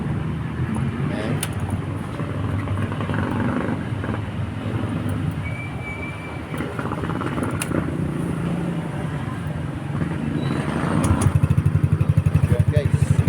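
A Yamaha Mio Gravis 125 scooter engine starting and running, close by. Rough, muffled noise and talking come first, then a rapid, even engine putter takes over near the end.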